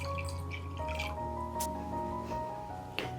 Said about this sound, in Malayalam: ഇളം ചൂടുള്ള വെള്ളമാണ് ഒഴിച്ചു കൊടുക്കുന്നത്